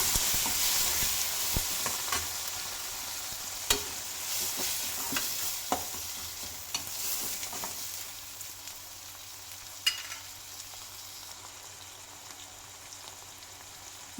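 Broccoli and tomato cook in a pan with a soft, steady sizzle, broken by several sharp scraping stirs of a spoon against the pan, quiet and close.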